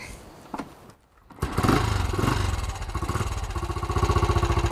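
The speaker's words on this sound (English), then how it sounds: "I'll have a go at firing the bike up" A motorcycle is fired up after a brief cranking attempt, catching into a loud, close, lumpy idle that keeps running with a rhythmic pulsing beat.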